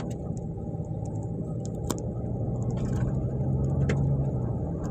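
Ford Expedition with a 6R80 automatic transmission in fifth gear, its engine droning steadily with a low rising hum as the transmission drags, heard from inside the cabin with faint clicks and rattles.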